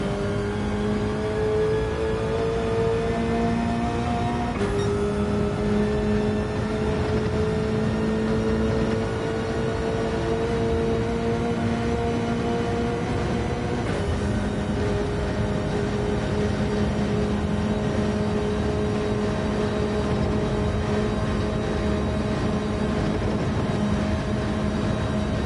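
A Gr.3 race car in Gran Turismo 7 on the Nürburgring 24-hour layout holds a loud, steady engine drone, with two clear gear changes where the pitch drops and then climbs again.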